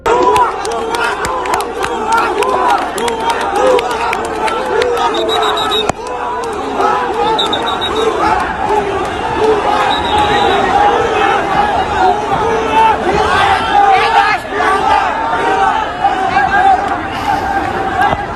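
A large crowd in Bangladesh near Dhanmondi 32 chanting "bhuya bhuya" slogans at army soldiers, a loud sustained roar of many voices shouting together in waves, with a brief break before the chant swells again.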